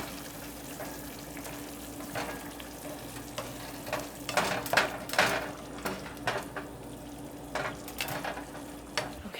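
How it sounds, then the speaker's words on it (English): Red pepper flakes simmering in chicken broth in a pan, a soft continuous sizzle with occasional louder crackles and stirring taps, fairly faint and close. "just let this simmer"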